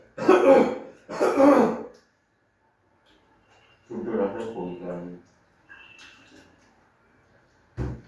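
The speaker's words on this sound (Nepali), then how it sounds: "खोकी लागेको छ के गर्नु" Two harsh coughs come close together at the start, followed by a quiet pause and then some muffled speech.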